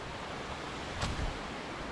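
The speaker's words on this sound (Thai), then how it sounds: "ข้างบนเป็นน้ำตก" Water rushes steadily from a waterfall along a hiking trail, a constant broad roar with no clear change.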